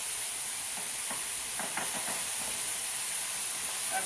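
Pork chops sizzle in a hot pan with a constant, loud, bright hiss and faint crackles, steady throughout and without talk.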